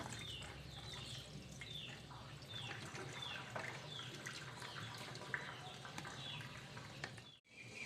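Soybeans for tempeh being rinsed clean under running water and drained, a steady wet splashing and trickling with small drips, continuous and close, ending in a brief drop to silence.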